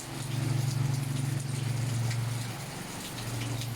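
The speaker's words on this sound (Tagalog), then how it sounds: "ulan na gid ang Malaybalay" Steady rain in Malaybalay hissing and gushing, a dense wash of noise with a low rumble underneath, continuous throughout with no voices.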